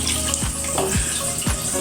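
Water poured into a pan of spaghetti sauce with Knorr cube for Filipino-style spaghetti, a steady rushing and bubbling pour with a few low gurgles, close and continuous.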